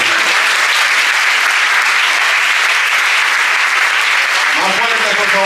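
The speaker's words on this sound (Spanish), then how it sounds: "Regálenle una ofrenda de aplausos a Dios" Sustained applause fills a Pentecostal church youth week service, a dense steady wash of many hands clapping loudly throughout, with voices rising underneath near the end.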